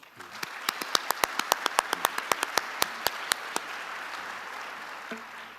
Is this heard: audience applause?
yes